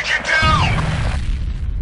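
A grenade blast in the first-person shooter F.E.A.R. rolls out as a heavy low boom lasting over a second, with a voice talking across its start.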